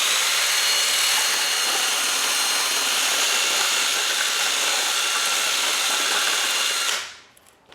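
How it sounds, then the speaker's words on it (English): Power tool sanding the inside of a wooden Native American style flute bore and its glue joint, a loud steady high whirring grind held for about seven seconds before stopping abruptly. "this will sand the inside of the hole, inside of the barrel. It will sand that glue joint."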